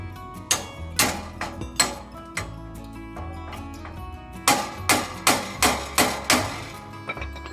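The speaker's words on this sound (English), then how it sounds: "This portion right here around this rod is a sleeve that you can tap and push it further along on the shaft." A sleeve on the rod of a mower deck is tapped with a hammer in repeated sharp metallic knocks. An irregular first run is followed by a steady series of about seven close, ringing strikes.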